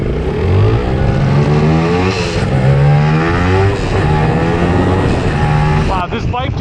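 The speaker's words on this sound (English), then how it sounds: "Wow, this bike just zooms!" Vintage Yamaha two-stroke motorcycle fitted with an aftermarket silencer, revving loud and close with rising and falling engine pitch; a brief burst of voices near the end.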